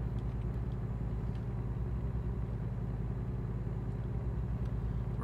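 A truck engine in American Truck Simulator holds a steady, low, even drone throughout, with no clear rise in pitch and faint clicks over the hum.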